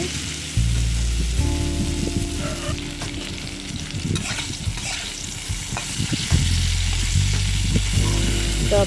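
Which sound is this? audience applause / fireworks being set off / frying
frying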